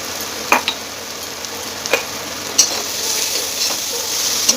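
Eggplant curry masala with tomato sizzles steadily in a pan, with a few sharp ticks and clinks of stirring scattered throughout; loud and close, no voices.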